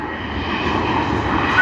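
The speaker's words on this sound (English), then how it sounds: "SQ211, the evening service on the Boeing" Steady broadband roar of a Singapore Airlines Boeing 777-300ER jet at Sydney Airport in the evening, a continuous engine rush holding at fairly loud level without talk.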